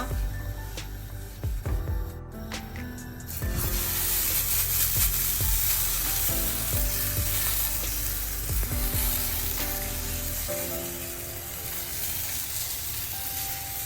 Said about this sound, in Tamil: இப்போ தோசையை வார்த்துட்டு இப்போ நல்லெண்ணெய் சேர்க்க போகிறேன்